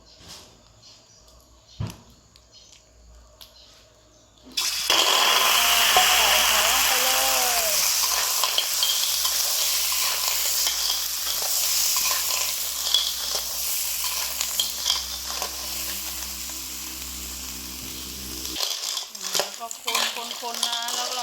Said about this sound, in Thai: แล้วก็ทำการ ใส่พริกเผาลงไปผัดนะคะ